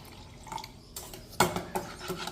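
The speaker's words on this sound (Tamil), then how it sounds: "நீங்கள் ரசத்துக்கு தண்ணி விட்டுக்குங்க" Water is poured into a pot of traditional South Indian rasam, a soft splashing trickle with a few light clinks of a vessel, faint and close by.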